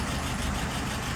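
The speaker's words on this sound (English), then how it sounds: "Idling at 680." A car engine idling at about 680 rpm, a steady low rumble running evenly and close throughout with no talk over it.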